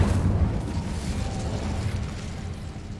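Bombarda and Incendio spells go off in Hogwarts Legacy as a loud, close burst with a deep rumbling roar that slowly fades over a few seconds, with no voices present.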